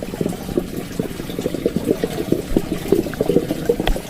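Tap water pouring and splashing steadily into a Japanese koi pond after cleaning, a close, continuous bubbling gush with no talk.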